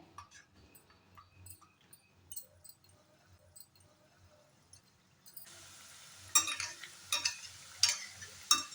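Sweet gojha dumplings frying in hot ghee over a low flame: soft, near crackling and ticking at first, then a brighter steady sizzle with sharp spattering bursts toward the end.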